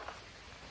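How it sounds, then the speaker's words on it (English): Steady rain falls on a surface outdoors near the eaves of a building, an even, continuous hiss of drops with no talk. "Hopefully the rain subsides."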